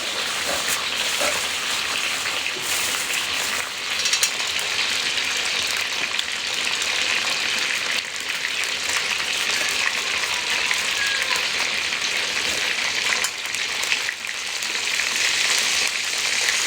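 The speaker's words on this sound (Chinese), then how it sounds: "煎一次撒一次盐啊" Salted fish and cured meat fry in a pan with a steady, dense crackling sizzle that continues without a break, close and fairly loud, with no talk.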